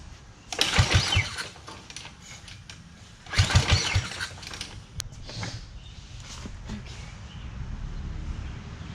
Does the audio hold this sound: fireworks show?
no